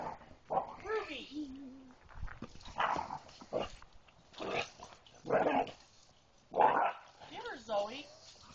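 Several dogs barking, yipping and whining in a scuffle, short loud bursts spaced about a second apart with quiet gaps between them.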